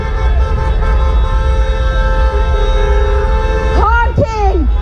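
Car horns honking along a street protest march, a couple of short toots near the end over a constant loud hum of traffic and crowd.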